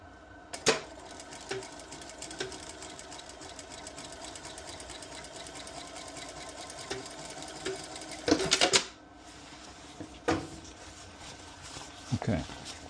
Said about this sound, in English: cover stitch on the other side